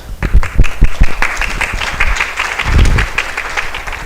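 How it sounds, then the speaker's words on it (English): An audience claps for a speaker introduced at a university electrical engineering talk on VR displays. The clapping is loud and close, with distinct individual claps and low thumps running under it. "So let's have a big applause."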